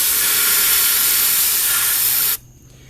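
Brake parts cleaner sprays from an aerosol can onto an engine in a loud, close, steady hiss that lasts over two seconds, then cuts off abruptly into quiet.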